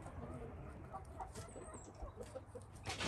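An Aseel stag, a young male Rajah Murgh chicken, clucking softly while being held, with short throaty calls scattered over a quiet, rustling background.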